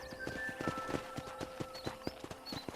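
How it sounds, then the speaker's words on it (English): Horse hooves in Red Dead Redemption clip-clop in a steady walking rhythm on a ranch, distinct and near, with a faint whinny and no talking. "let's see if you can still ride a horse."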